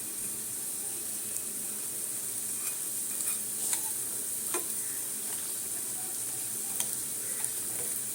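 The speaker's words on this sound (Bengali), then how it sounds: "কেউ ডুবো তেলেও করতে পারো, আবার কেউ এরকম হালকা তেলেও করতে পারো" Pakora fritters frying in shallow oil over low heat, giving a steady, even sizzle throughout with faint occasional clicks and stirring taps.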